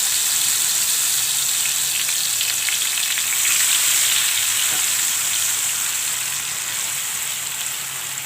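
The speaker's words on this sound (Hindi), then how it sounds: "घी और तेल गर्म हो गया है। जो पेस्ट बनाई थी इसे दे देती हूँ।" Spice paste sizzles and fries in hot ghee and oil for a brinjal dish, a steady loud crackling hiss with occasional stirring, no voices.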